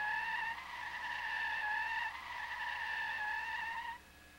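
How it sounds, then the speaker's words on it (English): Car skidding with its front brakes locked, a sustained high tire squeal holding a steady pitch for about four seconds, briefly dipping midway, then cutting off abruptly. "If the front brakes lock, the driver is unable to steer."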